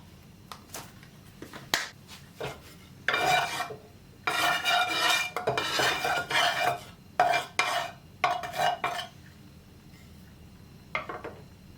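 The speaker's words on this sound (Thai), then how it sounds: "จากนั้นเดี๋ยวเราจะมาเริ่มลงมือผัดกันเลยค่ะ" Ingredients for a vegetarian Thai basil eggplant stir-fry being tossed in a pan, with bursts of scraping, clattering and sizzling coming in uneven clusters, close and fairly loud, without speech.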